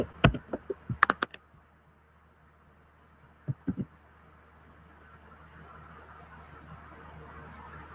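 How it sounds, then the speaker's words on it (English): Computer keyboard keys clatter in a short burst of close, sharp taps, then two more quick clicks a few seconds later before a faint hiss takes over. "Just be typing."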